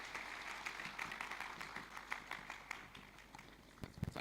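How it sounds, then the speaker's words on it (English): A crowd applauds at a product launch as a guest of honour is welcomed: dense, steady clapping with scattered sharper claps, moderately loud, and no voices. "round of applause, please."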